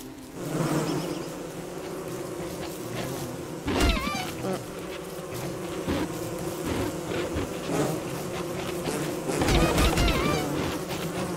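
A steady insect-like buzzing drone of bees with a few louder thumps and crashes, in the game Don't Starve.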